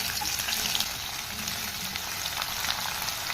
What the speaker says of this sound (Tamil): இப்போ இந்த ஸ்டேஜில் வெங்காயம் சேர்த்துக்கலாம்